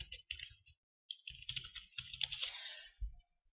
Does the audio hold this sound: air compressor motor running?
no